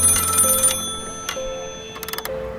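Old office telephone bell in an audio drama, ringing in short repeated bursts that come close and loud, then fade, with faint background noise between rings.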